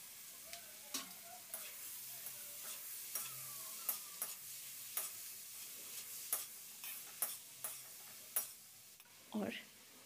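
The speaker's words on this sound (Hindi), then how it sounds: "वेजिटेबल्स को सौते करके इसके अंदर पास्ता मिक्स कर लूँगी" Vegetables and corn sauté in a pan for a pasta dish, with a soft sizzle under a series of sharp spatula taps and scrapes against the pan, plus a brief clatter near the end.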